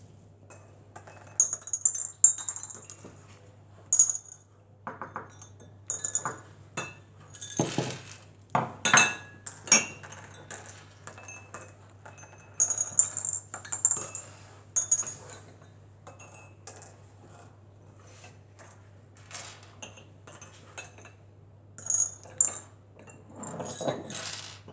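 Coins clinking and dropping into small cups during a tabletop game, a series of scattered light metallic taps and rattles, close and fairly quiet, with no talk over them.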